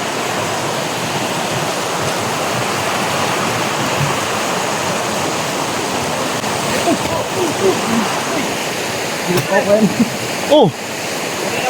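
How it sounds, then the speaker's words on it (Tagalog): Rushing stream current roaring steadily and loudly, with a brief exclamation and a few faint voices breaking in near the end. "Narinig niyo yung Agos?"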